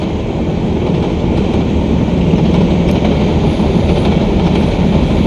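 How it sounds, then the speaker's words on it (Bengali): A night train from Mohanganj to Kamalapur station, Bangladesh, rumbles steadily along the rails, loud and close, with a continuous heavy roar and faint rhythmic clatter from the wheels. "এই ট্রেন যাইব কমলাপুর স্টেশনও"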